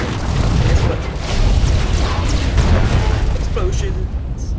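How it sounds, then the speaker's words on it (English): Explosions in the video game Star Wars: The Old Republic form a dense, continuous barrage of rumbling booms and bursts, with a voice briefly heard near the end. "Explosions."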